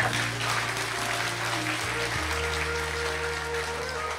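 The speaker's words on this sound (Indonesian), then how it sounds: "tepuk tangan untuk Allah Subhanahu wa taala" A religious gathering's audience claps together in a steady, dense burst of applause that holds throughout, with a low steady hum underneath.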